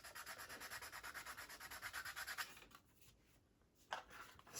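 Rhythmic rasping strokes of a file on plastic parts from a 1/24 Airfix P-51D Mustang model kit, steady back-and-forth scraping for a few seconds, then pausing with a couple of short final strokes, close and clear.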